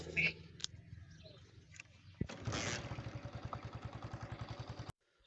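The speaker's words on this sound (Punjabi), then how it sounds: "ਮੋਟਰਸਾਈਕਲ ਤੇ ਅਸੀਂ ਆਪਣਾ ਕੱਢ ਕੇ ਖੜਾ ਕੀਤਾ ਬਾਹਰ, ਇਹਨੂੰ ਸਟਾਰਟ ਕਰ ਦਈਏ" A motorcycle engine cranks and catches, then settles into a steady, rhythmic idle putter close by, cutting off abruptly at the end.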